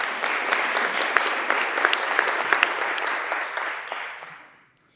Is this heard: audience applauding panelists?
yes